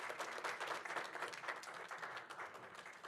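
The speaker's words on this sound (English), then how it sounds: "give one more applause to Columbia Middle School for their wonderful presentation" A school board meeting audience applauds a middle school's presentation. The clapping sounds faint and distant, a continuous patter of many hands that holds evenly for a few seconds with no speech over it.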